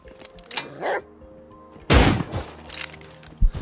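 In the survival game Rust, a dog barks in short bursts amid loud gunfire blasts, with a heavy shot-like boom near the middle and another sharp hit near the end.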